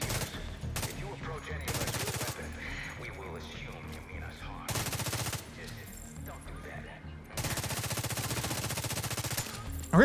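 Bursts of rapid gunfire from a weapon in a shooter video game, several loud sustained volleys separated by short pauses, over a low rumbling game soundscape.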